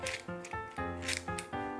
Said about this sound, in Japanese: ハサミで切ってやろう。